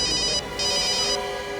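A telephone rings with a bright, trilling electronic tone in two short bursts separated by a brief pause, loud and close, with no talking.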